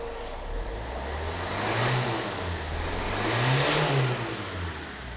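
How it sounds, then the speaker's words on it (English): A Land Rover Freelander engine with a crankcase breather fault throwing black smoke, revved twice from idle, each rise swelling and falling back, steady and fairly close with no talk. "if I rev that up, you should hopefully see what I mean."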